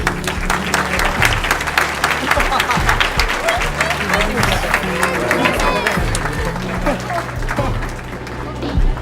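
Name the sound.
audience applause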